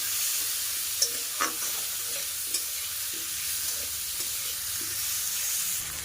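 Onion and potato pieces fry in oil in a pan, a steady gentle sizzle with occasional stirring scrapes and light clicks, alone and close.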